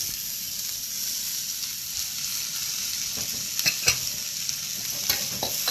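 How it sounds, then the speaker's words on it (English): Cabbage stir-fries in a hot wok with a dense steady sizzle, and a few sharp louder crackles and clatters of stirring come toward the end. "I'm going to add some cabbage to this."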